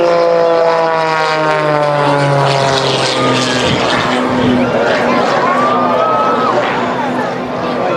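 Aerobatic propeller airplane performing at the Wings Over Houston 2018 air show, its engine droning loud and close with shifting pitch as it climbs and dives, mixed with some crowd noise.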